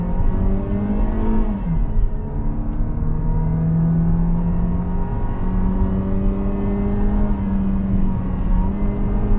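A Volkswagen T-Cross launches hard in sport mode, its engine note climbing steadily in pitch through the gears with a brief dip at a shift, loud and close throughout with no voices.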